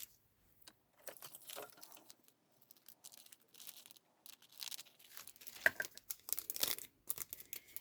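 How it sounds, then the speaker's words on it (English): A clear acetate sheet is cut for a journal page, giving faint, crisp crackles and snips in short irregular bursts with quiet gaps between them. "And now I know where to cut this acetate sheet"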